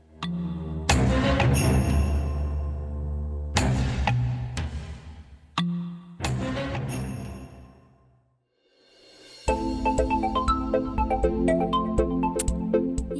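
A mobile phone ringtone plays loudly as a bright electronic melody, cutting off briefly twice and going quiet for a moment before resuming. No one speaks.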